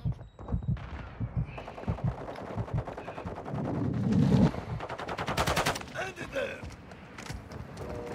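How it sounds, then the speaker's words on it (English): Rapid machine-gun bursts and single shots ring out in Call of Duty Warzone DMZ, loud and close with mechanical clatter and sustained rattling fire. Radio-style game voices and player talk run over the shooting. "You are taking effective fire."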